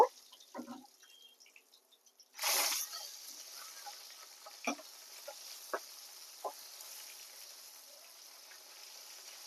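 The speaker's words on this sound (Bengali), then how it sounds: "খুব কড়াও না খুব একেবারে বা হালকাও না মিডিয়াম সাইজ ভাবে মাছটাকে আমি ভেজে নিব" Small fish frying in a pan with a pinch of salt: soft crackling and sizzling, a sharp burst of hissing partway through, then scattered pops and spatters over a quiet, steady fry.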